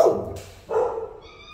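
Two short dog barks ring out in a reverberant animal shelter room, the second followed by a faint high whine fading away.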